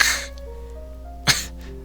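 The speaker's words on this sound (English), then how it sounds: "A sneeze interrupts me, causing Natsuki to take a step back." A person sneezes twice, each a sharp, close, breathy burst, with a quiet pause between them over a faint steady hum.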